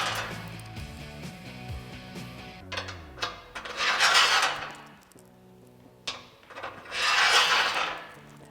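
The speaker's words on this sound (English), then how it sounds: "So now I'm going to take my bolts and we're going to run 4 of them in each slot." Bolts are slid into the slots of the running board brackets on a 2019-2022 Silverado or Sierra 1500 during an install. Close metallic scraping and rubbing comes in two longer sliding passes, with clicks and clanks between them.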